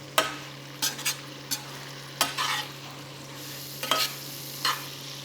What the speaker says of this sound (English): just give them a good old mix up. And you can see that pan's going nice and hot now.